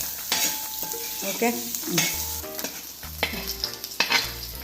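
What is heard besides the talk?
onions frying and being stirred in a pan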